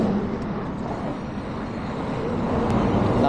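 A steady, loud blowing whoosh of a hair dryer softening an adhesive bike registration sticker runs without a break, broadband and close to the microphone.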